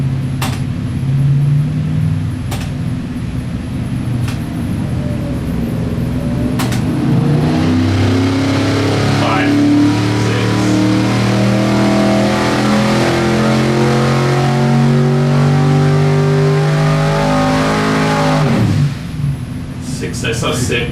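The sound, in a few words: car engine revving on a dyno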